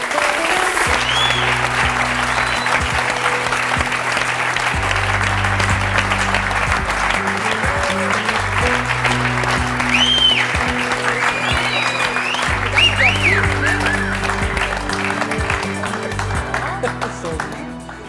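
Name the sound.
studio audience applause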